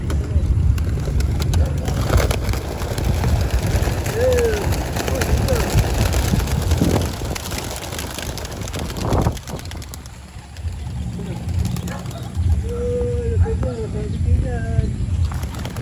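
Racing pigeons released from a training box on their first training flight, their wing flutters and soft coos blending with steady outdoor noise while someone talks over them throughout.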